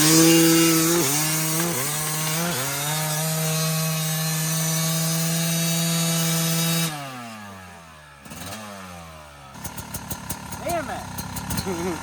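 A dirt bike rides on a bare rim after a bubble-wrap tire failed, its engine droning loud and steady with small pitch shifts, then dropping off into rougher, scraping, rattling sounds.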